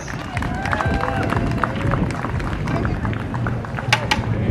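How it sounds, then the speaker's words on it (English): A festival crowd outdoors at a beach festival council presentation claps and cheers, a dense rolling patter of hands mixed with crowd noise, fairly loud and sustained throughout. "Everybody give her a loud round of applause."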